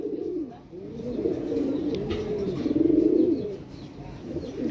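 A pair of pigeons coos in soft, low, rolling calls that swell and fade over a few seconds, close by, with faint background noise.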